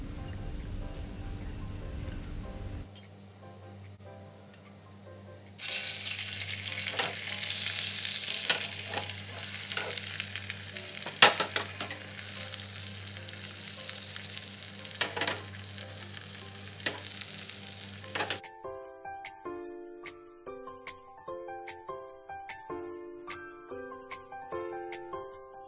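Thin egg omelette frying in a little oil in a pan, a bright steady sizzle with scattered crackles that swells loud partway through, then gives way to a plucked melody at the end; no talk.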